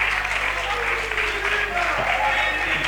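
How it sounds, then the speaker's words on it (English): A summit audience applauds at a pitch competition final, giving a continuous wash of clapping that stays steady and full for about three seconds. "I think they deserve a resounding round of applause."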